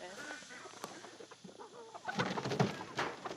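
Chickens clucking on a farm, a few scattered calls at first, then a louder burst of fowl noise near the end, with faint voices in the background.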